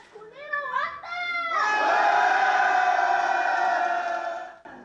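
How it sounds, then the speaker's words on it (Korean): Residents of Gunwi County erupt in loud cheering and shouting at the announcement that Daegu's military base will relocate there, a sustained crowd roar after a few raised voices. "대구 군부대 최종 이전지에 군위군이 선정되자 군민들의 환호가 터져 나옵니다"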